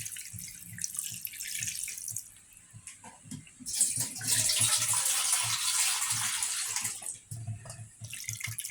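Water poured into a cooking pot for a chicken and corn dish, a steady splashing stream that swells louder midway, then eases, with faint clinks underneath.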